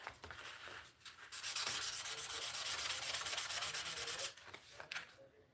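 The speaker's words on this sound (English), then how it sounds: "I'll go over it with a little sandpaper, and it will look a little better even." Sandpaper rubbed by hand over etched metal, a steady loud scratchy rasp with brief pauses at the start and end, with no talking.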